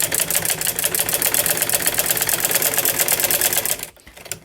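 A sewing machine runs a double seam on a salwar in a fast, steady, close-up mechanical rattle for about four seconds, then stops abruptly.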